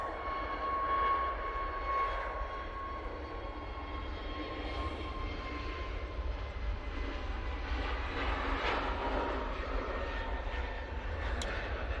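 A TUI jet at Manchester Airport, heard as a steady, distant engine roar with a faint whine, holding an even level throughout with no talking.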